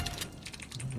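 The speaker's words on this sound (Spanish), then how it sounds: "El teclado que se oye es el del Evo" Computer keyboard typing during an online gaming session, a steady patter of quick key clicks running through the whole second at moderate loudness over a low background hum.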